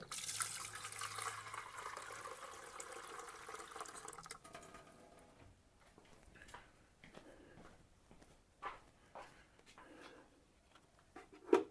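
Tap water runs steadily during knife sharpening on a Tormek wet grinder, with a broad continuous rush for about four seconds, then scattered faint drips and splashes.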